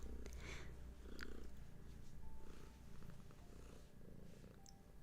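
Cat purring up close, a soft continuous low rumble that pulses with each breath, quiet and steady with faint background noise.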